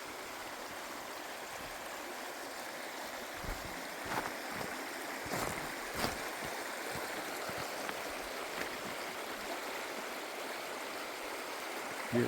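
A Highland river along the West Highland Way in Scotland flows steadily near a wild campsite, a constant close babbling wash with a few brief splashes and no voices.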